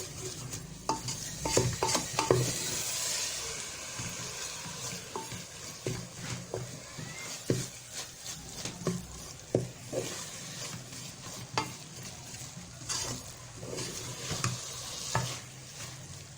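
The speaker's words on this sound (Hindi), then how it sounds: "अब इसको अच्छे तरीके से भूनना है हमने, और मुसलसल इसमें हम साथ साथ चम्मच चलाते जाएंगे ताकि ये जले ना" A spoon stirs grated carrot halwa roasting in a pan with sugar syrup, giving soft steady scraping and sizzling broken by sharp clinks of metal on the pan at irregular intervals, close and fairly quiet, with no talking.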